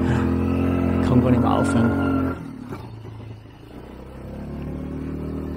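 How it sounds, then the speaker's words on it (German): Car drifting on snow, its engine droning loud and steady with a revving surge that drops off midway before resuming, while someone talks excitedly over it. "Das ist ein geiler Drift im Schnee."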